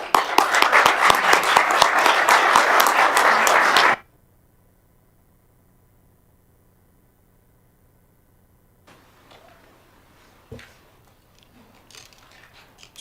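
Applause breaks out at a commission meeting, a loud, dense burst of clapping for about four seconds that stops abruptly, followed by near silence and faint room shuffling.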